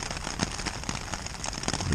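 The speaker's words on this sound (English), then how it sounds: "It's really raining, as you can probably hear." Heavy rain at night hisses steadily, with dense crackling drops pattering on a surface close by and no voices.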